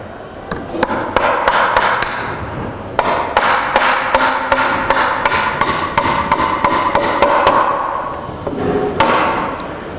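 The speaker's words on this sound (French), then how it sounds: "on vient lui planter un clou ici pour l'empêcher de sortir" A hammer strikes a nail into a wooden door frame during frame and casing installation, a long run of sharp, loud, closely spaced blows with a few short pauses, close by and without talk.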